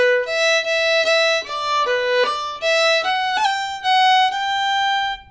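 A phrase of the Irish tune The Lilting Banshee played solo on a clear, pure-toned wind instrument, a quick run of bright notes with slurred joins and short flicked ornaments, close and alone without any talk.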